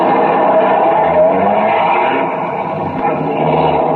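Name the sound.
police cars pulling out of garage, radio drama effect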